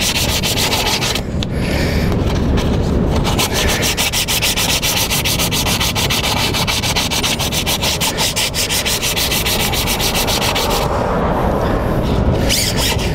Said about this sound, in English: It's the sanding paper that you can use wet